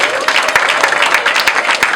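Loud, close applause from wedding guests at a French-language civil wedding ceremony, a dense burst of many hands clapping with distinct sharp claps and a few voices mixed in.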